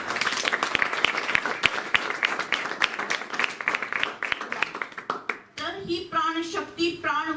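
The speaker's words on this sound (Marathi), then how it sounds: "खाली हात घ्या आणि स्वतःसाठी टाळ्या वाजवा" An audience at a Rajyoga meditation peace event clapping for themselves, a dense burst of applause with sharp individual claps that tapers off, followed by a voice speaking.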